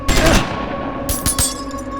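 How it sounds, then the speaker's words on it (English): A few quick shots ring out in Wasteland 2, an early burst followed by two or three crisp reports a second later, over a steady droning game ambience. "have him take a quick shot at the wrecking crew"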